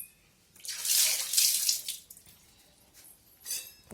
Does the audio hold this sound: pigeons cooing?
no